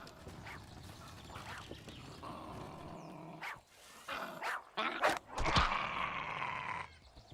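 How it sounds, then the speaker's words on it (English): Dog growling and giving a few short barks in a hard-mode survival video game, faint at first and then sharper and louder in the second half. "I hear you over there, dog."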